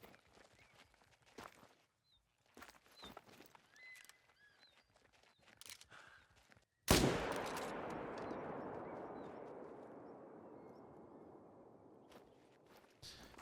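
A single loud rifle shot in a hunting video game on the Sundarpatan map, cracking sharply out of quiet footsteps and rustling, then trailing off into a long, slowly fading echo.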